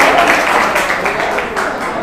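Loud, steady applause from a crowd rewarding a correct quiz answer, filling the whole short stretch as one continuous wash of clapping.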